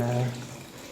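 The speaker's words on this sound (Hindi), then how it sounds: "पानी ऐड कर देना है" Water pours briefly into a pot of cooking mutton keema, a short splashing gush that quickly settles into a softer trickle.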